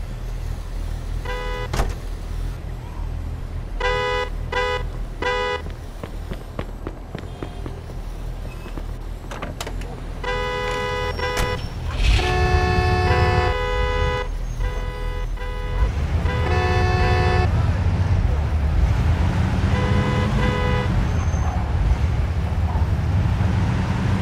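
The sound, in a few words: traffic with car horns honking in video game Mafia 2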